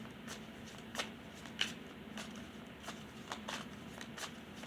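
Tarot cards are shuffled close by in a steady series of soft riffling snaps and rustles, with no voice.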